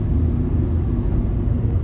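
A Citroen Nemo van with a diesel particulate filter cruising under load at about 50 mph and 2,000 RPM on an open road, a steady low engine and road rumble heard from inside the cab, constant and fairly loud.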